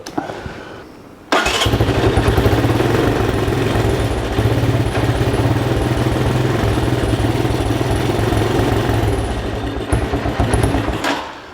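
A 1985 Honda ATC200M ATV engine cranks briefly, catches and then runs steadily at a loud, close rumbling idle with a rough, uneven beat, carrying on alone for about ten seconds.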